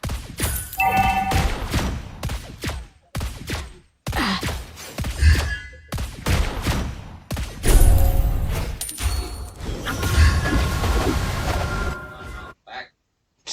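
Bursts of gunfire and loud impacts from a video game firefight, dense and rapid, with short pauses between volleys.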